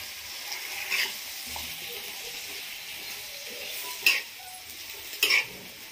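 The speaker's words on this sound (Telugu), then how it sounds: "టమాటాలు వేసి కలుపుకుంటున్నాను" Tomatoes are stirred into hot oil with cumin and green chillies in a pan, giving a soft, steady sizzle. A few sharp scrapes and clinks of a utensil against the pan stand out above the frying.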